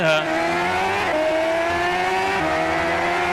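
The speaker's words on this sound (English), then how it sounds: "playing the car racing game" A car racing video game played with a camera tracking a held sheet of paper, giving a steady, loud engine drone with rising revving pitch and shifts, running continuously throughout.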